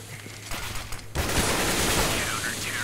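Rapid automatic rifle spray in a Counter-Strike esports match, a dense burst of gunfire that starts about a second in and keeps up loudly to the end, with a faint caster voice underneath.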